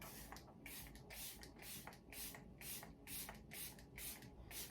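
A fine makeup setting mist is sprayed in a quick series of soft, hissing bursts, about ten evenly spaced puffs, close and fairly quiet with no talking.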